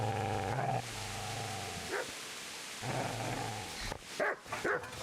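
A dog in Kingdom Come: Deliverance barks in several sharp, loud bursts, with growling between the barks over a continuous ambient wash of the game.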